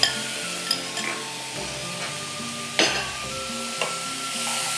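Chopped cauliflower is stirred in a hot, sizzling pan in a kitchen, with a steady frying hiss and a few sharp scrapes of the utensil against the pan, close and clear with no talking.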